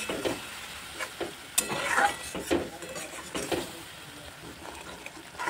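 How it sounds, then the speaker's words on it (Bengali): Spice paste sizzles steadily in a pan for a Sylheti-style boal fish oil-and-chili curry, with repeated spatula scrapes and stirring strokes close by and no talking. "সুন্দর করে কষিয়ে নেব সব কিছু একসঙ্গে দিয়ে"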